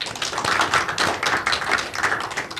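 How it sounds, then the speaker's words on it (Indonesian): A studio audience claps in a dense, rapid patter for guest Adibah Rahman on a talk show, a steady burst of applause with no voices over it. "Tepuk tangan dulu buat Adibah Rahman"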